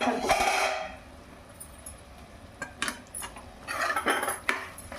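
A metal spoon scrapes and clinks against a cooking pot while boiled gongura leaves are stirred into cooked chicken, irregular close scraping strokes and taps.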